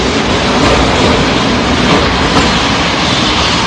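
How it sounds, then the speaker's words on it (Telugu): A train pulls in at a railway platform with a steady, loud, rushing rumble that fills the whole stretch without pause; no voices are heard. "ట్రైన్ ఇప్పుడు 3వ ప్లాట్ఫామ్ కి వచ్చింది, అందరూ సిద్ధంగా ఉండండి."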